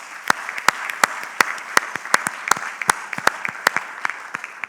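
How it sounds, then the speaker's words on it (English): The audience at a 2016 summer hotel-school graduation ceremony applauds diploma students. The claps are sharp and distinct, spaced out over a steady background patter, close and fairly loud, with no talking. "So let's give our diploma students a big round of applause."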